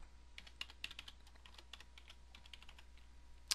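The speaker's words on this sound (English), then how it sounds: "Now, I'm going to type in my username." Soft, quick keystrokes on a computer keyboard tap out a username in an irregular burst, faint and close with a quiet hum beneath.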